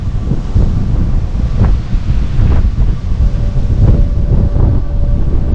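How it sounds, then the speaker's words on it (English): Strong wind buffeting a microphone out on an open upper deck of the cruise ship MSC Seashore, a constant blustery roar with gusts and a faint hum underneath. "Number one, that it's windy over here."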